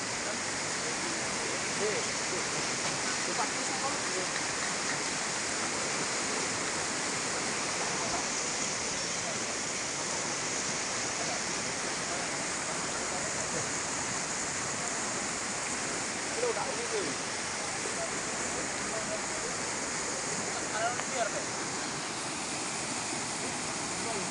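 Flash flood water rushing through Gondang, Bojonegoro, a steady broadband roar of torrential flow that stays loud and unbroken throughout, with no voices heard.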